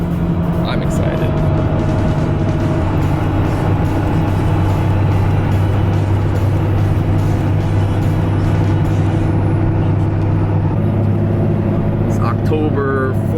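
A 1978 Dodge Macho Power Wagon truck drives along with a steady, loud engine drone and road rumble that continues throughout, while people talk inside the cab.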